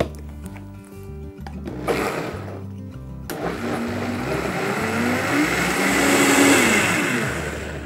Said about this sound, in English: And we're going to blend it.